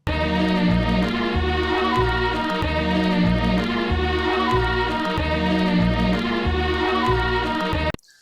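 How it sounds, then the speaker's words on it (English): A looping hip hop beat with a steady bass pulse under layered harmonic chords, playing continuously until it cuts off. "So the first loop, which I imagine to be kind of the chorus loop, if you will, is this one."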